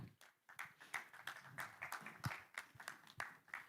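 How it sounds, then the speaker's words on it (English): Audience clapping for a panel moderator at a Nairobi business summit session, a faint, steady patter of many hands that swells and dips without pause, with no voices over it. "So a round of applause for Diana."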